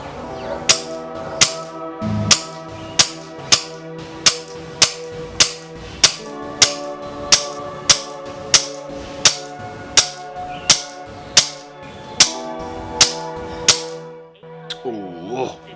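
Brocock Concept XR Lite air rifle firing at maximum power, loaded through a single-shot loader with Polymag pellets: a long, steady series of sharp, loud cracks spaced about every half second to second, alone with no talk.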